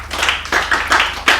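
A few hands clap for participants on a children's show, four or five distinct, fairly close claps in an uneven rhythm, sparse rather than a full crowd.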